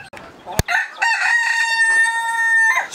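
A young chicken growing out of the chick stage lets out a loud, close crow-like call that holds a sustained tone for about two seconds after a sharp knock.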